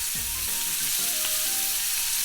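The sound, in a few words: beef tenderloin steak searing in a pan after flipping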